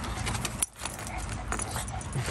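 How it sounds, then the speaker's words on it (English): A dog whimpers and yips softly at a moderate distance in a room, with brief faint voices and a short quiet gap partway through. "And also Debbie's dog Misty is here too"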